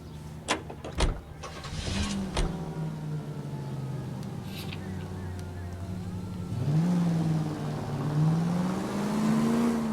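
Car driving in the video game L.A. Noire, a 1940s-style engine idling then revving up with rising whine as it pulls away, close and steady, with a few door-like thumps at the start.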